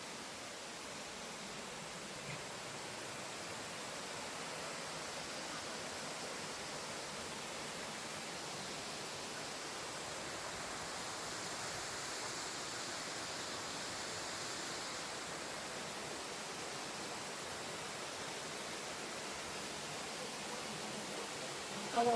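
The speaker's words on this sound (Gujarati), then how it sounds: "સરસ મજાની નદી હેલી જાય છે. સરસ પાણી છે, એકદમ તાજું પાણી છે." River water flows steadily in the open air, a broad, even rushing wash that holds constant and moderately distant for the whole stretch, with no voice over it.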